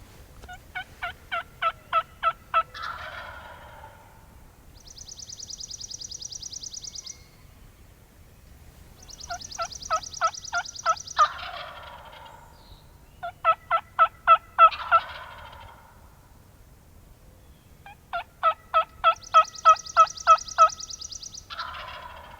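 Wild turkey tom gobbling outdoors during a Michigan spring hunt, several rattling gobbles repeated over about twenty seconds, fairly distant and clear against a quiet background.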